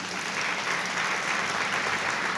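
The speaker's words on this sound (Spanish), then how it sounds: "Dale fuerte el aplauso al Señor." A church congregation gives a dense, steady round of applause during a sermon, the clapping even and continuous throughout.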